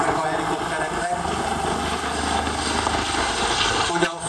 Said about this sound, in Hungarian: Mind a kettő két hajtóműves, tehát most összesen 4 gázturbina hangját halljuk a levegőben.